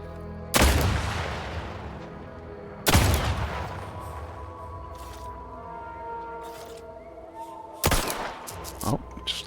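Gunshots from The Outer Worlds 2 crack out as a few loud, separate blasts spaced seconds apart, each followed by a ringing tail, with quieter clatter and low talk between.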